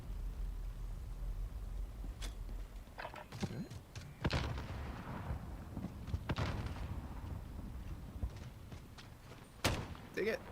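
Gunfire in a shooter video game: several sharp, scattered shot bursts spread across the stretch over a steady low background, with a loud cluster midway and another near the end.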